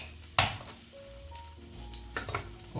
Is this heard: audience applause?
no